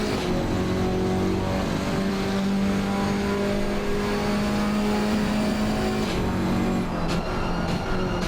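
A GT4 race car's engine droning steadily from onboard during a lap of Paul Ricard in a racing video game, a loud continuous tone that shifts pitch through gear changes, with no talk over it.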